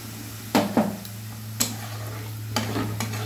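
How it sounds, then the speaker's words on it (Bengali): A spoon scrapes and stirs chicken in sauce in a pan: a few distinct stirring knocks over a low, steady sizzle and a constant background hum. "সসটা দিয়ে আমি খানিকক্ষণ নাড়িয়ে নেব"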